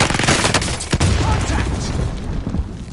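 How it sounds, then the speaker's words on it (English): A frag grenade thrown and detonating in Call of Duty Warzone amid dense gunfire, with loud booming blasts and rapid shots throughout, and voices calling out over the din. "Tossing frag!"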